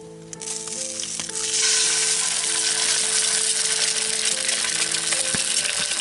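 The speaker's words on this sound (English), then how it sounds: "Frying up our first eggs in the wigwam" Eggs frying in a pan in a wigwam outdoors, a loud, close, steady sizzle that jumps up after a quieter start and crackles continuously, with a few faint clinks and steady tones underneath.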